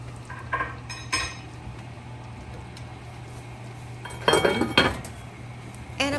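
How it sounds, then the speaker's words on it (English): Lamb shanks in red wine sauce are basted in a pot, giving a few scattered clinks and scrapes of a spoon against the pot over a low steady kitchen hum. "I'm going to give it a baste."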